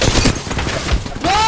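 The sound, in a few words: gunfire in video game Apex Legends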